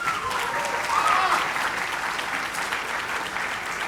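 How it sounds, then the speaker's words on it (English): An audience applauds steadily through a Formula Student business plan presentation final, the clapping dense and even, with a faint voice or tone briefly riding over it early on. "One more round of applause."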